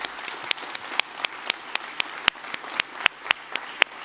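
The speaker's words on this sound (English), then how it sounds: "let's do an applause for everyone who has been helping us today" Applause from the audience at the close of a Dutch Umbraco community conference, a steady dense clapping with sharp individual claps standing out, sustained throughout and without talk.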